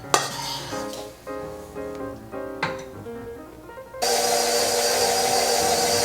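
Flour being mixed into blueberry lemon bundt cake batter: a stretch of tonal, music-like sound with light knocks gives way to a loud, steady churning noise over the final two seconds.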